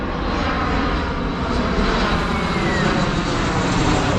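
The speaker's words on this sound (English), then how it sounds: "here comes another stinking plane" A propeller airplane drones steadily overhead at a rural work site, a loud continuous engine roar holding for several seconds with no talk.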